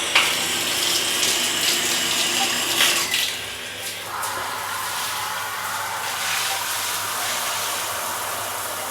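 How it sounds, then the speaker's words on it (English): A hotel room shower in Pattaya runs with a strong, steady hiss of spraying water, briefly louder at the start before settling into a constant rush, no voices. "Alright, let's give this shower a go."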